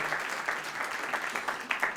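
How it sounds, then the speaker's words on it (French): Audience applause at a French awards event for project finalists, a steady wash of clapping with a few sharper bursts, fairly faint and distant throughout. "on va pouvoir les applaudir encore un petit peu plus fort, s'il vous plaît"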